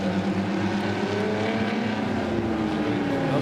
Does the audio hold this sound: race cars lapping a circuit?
yes